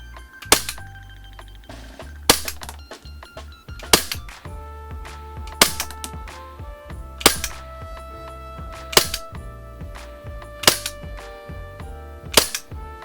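Umarex SRC Glock 17 Gen5 MOS CO2 airsoft pistol firing eight sharp, loud shots at a steady pace of roughly one every one and a half seconds, each crack standing alone with no talk.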